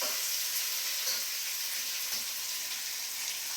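Onions fry in a pan for tomato rice, a constant close hiss and sizzle with faint stirring scrapes and no talk.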